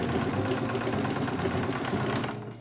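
A sewing machine runs steadily while stitching close to the edge of a folded fabric strip for a quilted tote bag, giving a rapid, even mechanical whirr. It stays close and continuous before easing off at the end.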